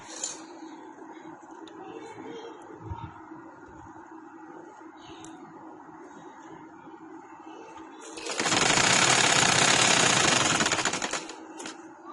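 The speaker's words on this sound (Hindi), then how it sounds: "इसी तरह हम इधर भी ऐसे ही लगा लेंगे सिलाई।" An electric sewing machine stitches a dress in one continuous whirring run of about three seconds after quiet handling noises, close and loud, then it stops.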